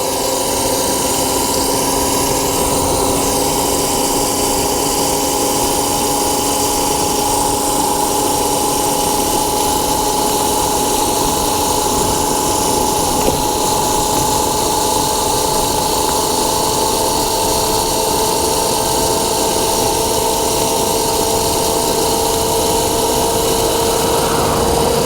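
Voloci electric bike motor under way at half throttle, a steady, loud electric whine with tonal hum and road noise holding constant throughout, with no talking.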